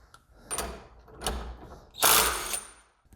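Bauer cordless impact driver hammering a bolt to 75 foot-pounds with a chrome socket, heard as three separate short bursts of rattling impacts, the last one longest and loudest, with quiet gaps between.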